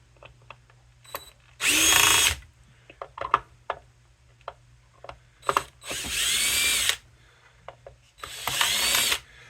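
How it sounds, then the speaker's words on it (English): Power drill backing screws out of a power inverter casing, three loud whirring bursts of roughly half a second each, with small clicks and handling noises between them, close up and without talk. "this power drill is not the correct one to be using on this"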